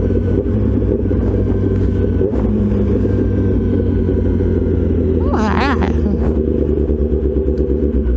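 A Kawasaki ZX-10R with an aftermarket exhaust rumbles loudly and steadily while being ridden on a road. There is a brief rising whine near the end.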